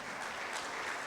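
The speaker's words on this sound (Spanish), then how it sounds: "Así que dese un aplauso a usted mismo." A church congregation claps together in steady, dense applause that holds at an even level for about a second with no pauses.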